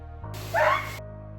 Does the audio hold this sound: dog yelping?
yes